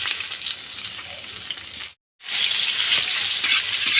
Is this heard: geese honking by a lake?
no